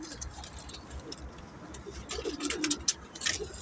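Pigeons in a rooftop loft in Johar Town give soft, low cooing, half buried in steady hiss and sharp clicking and rustling, growing a little busier toward the end.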